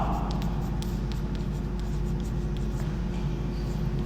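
A pen scratches steadily across paper while points of a linear equation are written down, a soft continuous scribble at close range over low background hum.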